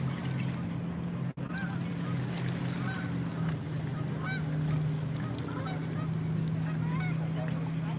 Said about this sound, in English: Canadian geese.